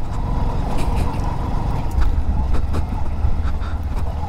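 A Bajaj CT 125X commuter motorcycle rides a rough, broken road near a dam in Pune, its engine a steady low rumble mixed with wind buffeting and occasional bumps and knocks.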